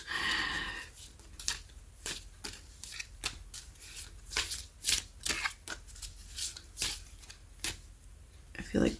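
Someone shuffles a brand-new deck of cards in close, crisp bursts of riffling, repeated in irregular rounds with short pauses between, with brief speech at the start.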